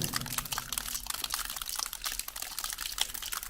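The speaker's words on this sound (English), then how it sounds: "It's difficult to pick up water on these cameras and dripping, but I hope you can hear it." Water drips and pours inside a wet, disused railway tunnel, producing a faint, steady patter of scattered drops over a low trickling hiss.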